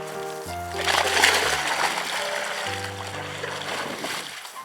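A loud splash as a pointer dog enters water, followed by sloshing and churning as it moves through it, with a few faint tones in the background.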